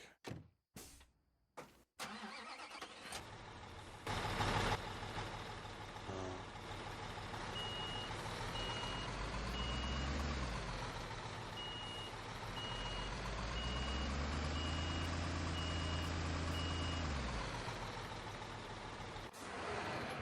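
A truck in the Construction Simulator 2015 video game reverses under a steady engine drone, its high reversing beep repeating at an even pace for several seconds while the engine rises and falls.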